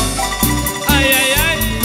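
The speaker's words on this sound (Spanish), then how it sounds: "Y seguimos con San Pedro Apóstol y suena así." A short excerpt of the piece "San Pedro Apóstol" played live, with steady, sustained melodic notes and light rhythmic attacks, and no voices.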